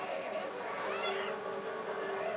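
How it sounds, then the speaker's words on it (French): A house cat meows and grumbles close by in a drawn-out complaining cry that rises and falls, over game sounds from Left 4 Dead 2 and a voice talking. "j'ai mon chat, il râle"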